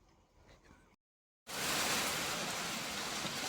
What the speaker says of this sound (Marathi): लिटरली पाऊस चालू झाला आहे